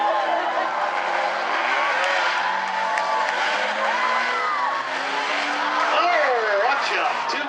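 Five Bumblebee-class race cars take the green flag for an eight-lap trophy dash at South Sound Speedway, engines roaring steadily with tires squealing, loud and continuous under excited announcer commentary.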